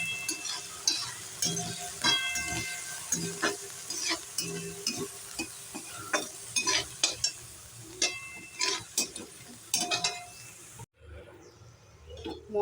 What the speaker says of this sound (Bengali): এবার এই ফ্রোজেন মটরগুলো তেলের মধ্যে দিয়ে একটু ভেজে নেব।